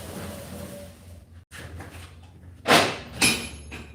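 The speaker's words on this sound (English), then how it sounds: "I gotta open up this door and get some more air circulating." A sliding garage door is pushed open, giving a dull scrape and rumble, then two sharp, loud rolling clatters close by, with no talking.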